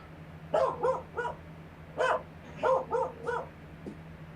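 A dog barks repeatedly nearby indoors in quick bursts of two or three, louder yelps then a fainter final bark, over a constant low electrical hum.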